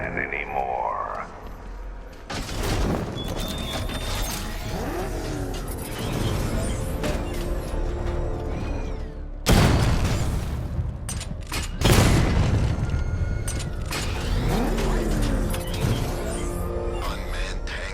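Unmanned tanks patrolling a city in Batman: Arkham Knight, heard as a low continuous rumble under dense game noise, with booming impacts and bursts that grow loud around the middle and late stretch.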